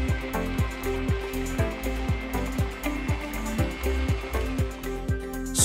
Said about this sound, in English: Mix up your mortar in a bucket.